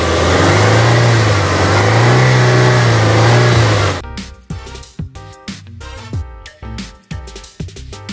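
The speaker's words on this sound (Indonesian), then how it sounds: "Kita dengerin suara begini ya. Mesin 16 valve 1800 cc." A 2004 Toyota Corolla Altis G manual's 1800 cc 16-valve engine drones loud and close, revving in smooth waves for a few seconds, then drops into choppy, uneven bursts as the throttle is blipped.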